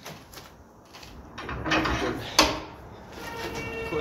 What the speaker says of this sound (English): Go over to the vise here, tighten it down.